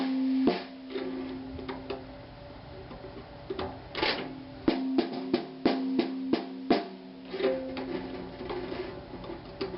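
A snare drum with its snares tightened gives a run of crisp, sharp hits, some in quick clusters and some spaced apart, close and fairly quiet, with no talking.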